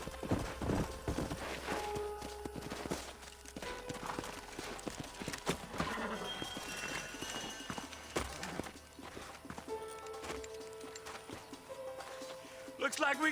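Horse hooves clip-clop in a steady rhythm amid Red Dead Redemption game sounds, with occasional whinnies and background music, fairly loud and continuous.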